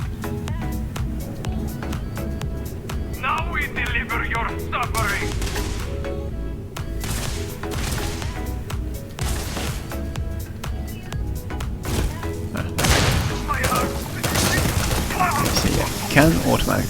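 Automatic rifle bursts in the sci-fi game Starfield, rapid gunshot volleys in several clusters with sharp percussive cracks, heard under a person talking throughout.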